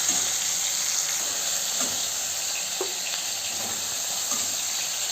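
Fish sizzles steadily in hot oil in a pan, a continuous close hiss with a few faint clicks and stirring touches, no voices.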